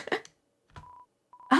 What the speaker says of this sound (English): I did get the Gaster phone call.